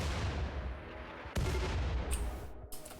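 A mortar fires in a Warhammer 40,000 game featuring the Salamanders, loud booming blasts over a dense, rumbling battle din, with a sharp report about midway and further impacts near the end.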